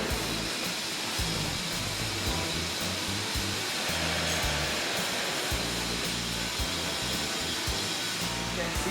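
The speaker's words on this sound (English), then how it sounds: "You can see like this kind of the air shaft, and also the like air blower and pelletizing unit." Steady loud rushing hiss of a factory air blower and plastics pelletizing unit running inside an industrial plant, a continuous broadband roar with a low rumbling pulse underneath, and faint talk beneath it.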